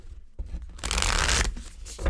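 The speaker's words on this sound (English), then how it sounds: "I gave it a couple more shuffles." Cards are shuffled for a yes-or-no card pull: a close, quick riffle builds into a dense flutter of several seconds, then tapers into a few soft taps.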